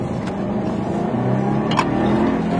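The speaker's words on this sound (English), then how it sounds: "Check out what happens when putting the car under load." A Subaru engine revs under load while the car drives, a steady, loud motor drone with rising harmonics that holds throughout without any speech.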